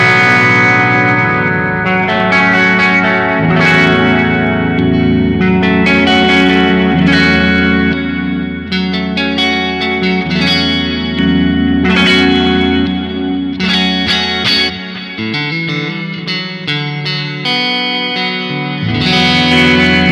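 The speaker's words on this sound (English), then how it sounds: "check out this clean sound a little bit. This is a Roland jazz chorus that we've got." Clean electric guitar played through a Roland Jazz Chorus amplifier, its lush chorus shimmer spreading over picked chords and single notes that ring out and decay in a steady, loud passage with no talking.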